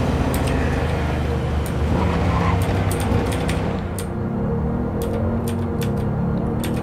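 Car driving in the video game Cyberpunk 2077, a steady loud engine drone with sharp ticking clicks scattered over it and tire noise that could be skidding.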